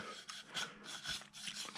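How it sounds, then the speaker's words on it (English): 400-mesh sanding mesh rubs back and forth across a carved wooden bust in quick, scratchy strokes, close up and fairly quiet, with brief pauses between passes. "I come in like this with this is a 400 mesh, Abernet sanding mesh"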